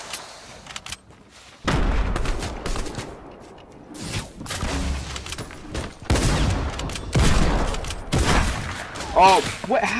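Shotgun blasts in the Fortnite video game, several heavy booming shots and bursts scattered irregularly, loud and close, with a voice talking between them.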